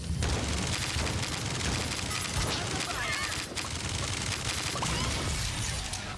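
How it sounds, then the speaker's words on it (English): Dense, continuous rapid gunfire from a Gatling gun in a battle royale video game, loud and sustained with scattered game effects layered over it. "it's a Gatling gun"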